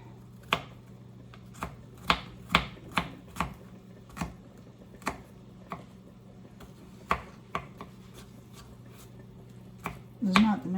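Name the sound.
chopping vegetables with a knife for turkey wing stew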